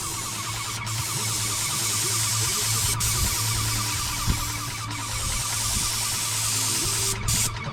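A paint sprayer coats the wall of a house, giving a steady, loud, continuous hiss with an underlying motor hum that holds unbroken for the whole stretch, broken only by a few faint clicks.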